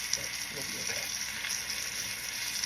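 Filet mignon searing in a hot pan, a steady, bright sizzle that runs continuously at close range, with a faint voice underneath.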